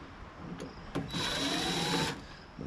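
Power drill running on screws of a tankless water heater, a short whir starting near one second and holding steady for about a second before stopping, with faint handling noise around it.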